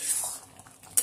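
A spoon scrapes and clinks against a pan while ghugni is stirred over a low gas flame, a brief, quiet metallic scrape with a sharp clink at the end.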